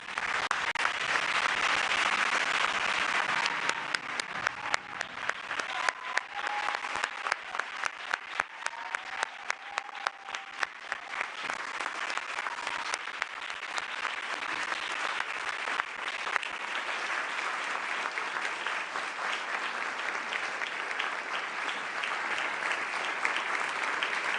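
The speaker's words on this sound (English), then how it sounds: "Please join me in a round of applause for all of our awardees." An audience applauds award recipients at a White House International Women of Courage ceremony, sustained clapping from a large room that swells, holds strong, and then thins slightly toward the end, with no speech over it.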